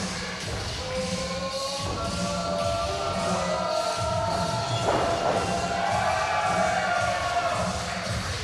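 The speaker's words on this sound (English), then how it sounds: "this crowd is reacting positively, it seems, to everybody tonight" A wrestling event crowd roars and cheers as a continuous wash of noise filling the arena, swelling slightly midway, with sustained whistle-like tones riding above it.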